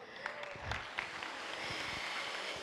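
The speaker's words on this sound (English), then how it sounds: "A round of applause" Applause at a ministerial meeting on women, peace and security: a scattered, fairly faint round of clapping from a room of delegates, lasting a few seconds without speech.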